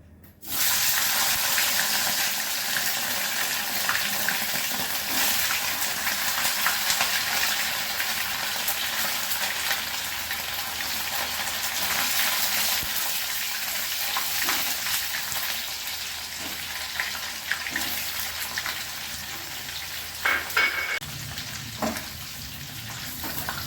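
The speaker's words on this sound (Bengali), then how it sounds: "পনিরগুলো প্রথমে হালকা করে ভেজে দিচ্ছি" Paneer cubes fry lightly in white cooking oil, giving a loud, close, continuous sizzle and crackle that holds steady for a long stretch, with brief splashier bursts and a spoon clink near the end.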